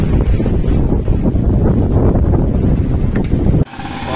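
Strong wind roars and buffets the microphone while sailing between Saint Lucia and Martinique, a continuous low rumble that suddenly drops near the end.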